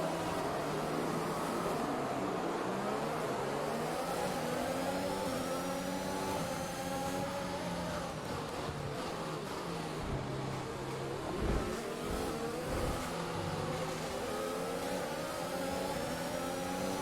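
Race cars in a racing video game rev and pull away at the start, a dense, continuous engine drone with overlapping rising pitches, moderately loud and steady, with no talk.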